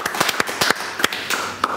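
Scattered, uneven handclaps from a studio audience close a televised science lecture on forensic genetics in Argentina. The claps are sharp and fairly sparse rather than a dense roar, and they continue for a couple of seconds.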